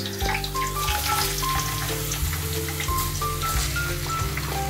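Onions fry in oil for chicken fry with a dense, continuous sizzle and crackle, close and loud, while faint tonal hums sit underneath.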